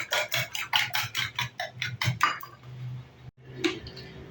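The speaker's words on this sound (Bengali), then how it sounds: "এই ফেটানোটা খুব ভালো করে ফেটাতে হবে" Rapid, rhythmic whisking of eggs in a bowl, close and clear, a quick series of scraping clinks that pauses briefly before a few more strokes.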